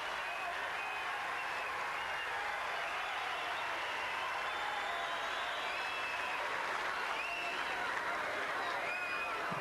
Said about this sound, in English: The crowd doing its best to motivate him.